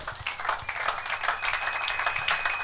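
A church congregation claps and applauds during a Bible-history sermon, a dense, steady wash of many hands that fills the whole stretch without letting up.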